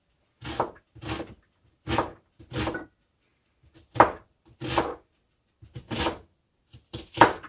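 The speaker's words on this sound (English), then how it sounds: "Again, we just do a rough chop of these onions here." A knife rough-chops onions on a board: eleven or so sharp, close thunks in loose pairs and clusters, each a dry woody knock separated by near silence.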